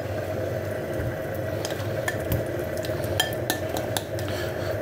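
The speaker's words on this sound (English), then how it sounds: "I'm going to use the same pan to fry the potatoes." Potatoes frying in the same pan just used for prawns, with steady sizzling throughout and scattered metallic clinks of utensils against the pan, close and moderately loud, with no talking.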